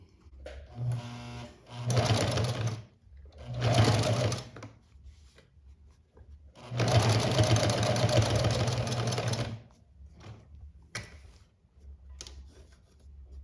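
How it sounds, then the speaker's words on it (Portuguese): A sewing machine stitches all around a fabric reliquary in three separate bursts: two short runs, then a longer steady run. Each burst is close and loud with an even mechanical whir, and quiet pauses fall between them. "faremos a costura em toda a volta"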